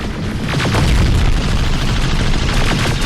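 Rapid, heavy gunfire from a weapon in Terminator: Resistance, a dense continuous burst of booming shots, loud and close, with no talk over it.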